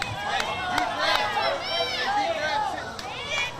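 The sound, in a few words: baseball crowd tense murmur during a pitch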